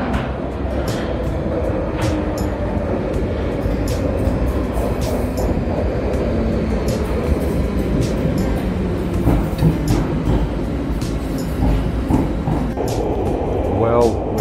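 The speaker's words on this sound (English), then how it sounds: "Well, it says up there that my train is now approaching." Train approaching a station platform on the way to Heathrow Terminal 5, a steady loud rumble and rail clatter sustained throughout with a faint rising whine near the end, and background noise suggesting voices nearby.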